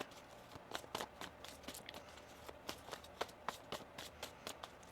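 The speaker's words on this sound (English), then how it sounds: "One more shuffle here." Tarot cards are shuffled by hand in a steady run of crisp riffling flicks and slaps, close and fairly quiet, with no talk over them.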